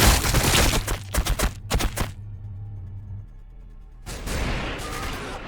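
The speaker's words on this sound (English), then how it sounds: "now he's using his missile strikes" Tau missile strikes in Warhammer 40000 Battlesector hit as a quick volley of loud booming impacts, then a quiet lull, then another rumbling barrage of explosions.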